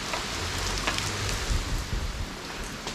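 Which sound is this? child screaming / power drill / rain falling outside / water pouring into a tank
rain falling outside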